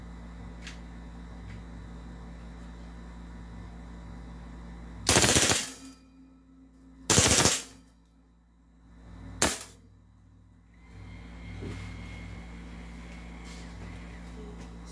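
A gas-powered Glock 18 airsoft pistol fires in rapid mode: three loud, short bursts spaced a couple of seconds apart, standing out against a steady background hum with no speech.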